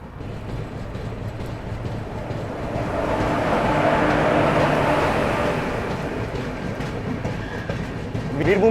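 The rake of the Veerbhoomi Express moving onto a platform at an Indian station, a long rumbling clatter of rail cars rolling past that swells in the middle and carries a faint wheel squeal, with background station noise.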